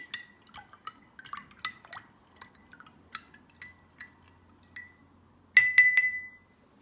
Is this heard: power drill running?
no